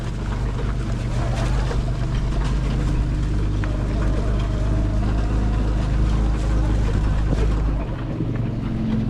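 Off-road motorcycle engine drones continuously on a slick, rocky trail, a loud, steady hum mixed with wind buffeting the microphone.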